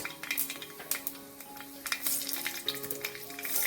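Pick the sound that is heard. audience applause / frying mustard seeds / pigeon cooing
frying mustard seeds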